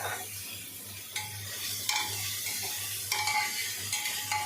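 Mutton trotters fry with ginger garlic paste in a pan, giving a steady close sizzle with a low hum beneath and occasional scraping clinks of a spoon stirring, with no talking.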